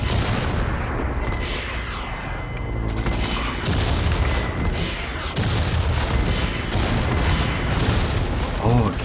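Missiles exploding in the video game Watch Dogs: Legion, a dense run of loud booming blasts and bursts that keep coming with hardly a pause, layered over ongoing gunfire-like pops and game noise.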